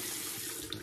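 Tap water runs steadily into a sink while bay rum shaving soap is being lathered, a close, continuous splashing hiss with no voices.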